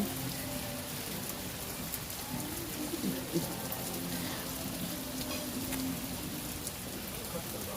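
Steady rain falls through a wet afternoon at a hillside lot in Perlis, a continuous, even hiss of drops on surfaces held at a constant moderate level for the whole stretch, with no talking.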